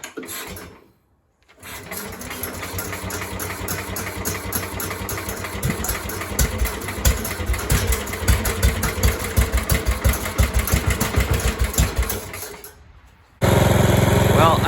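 A Sears Suburban lawn tractor engine, choked and sprayed with starting fluid, sputters, then catches and runs with a rapid, uneven chugging idle, loud and close, cutting out briefly before roaring again.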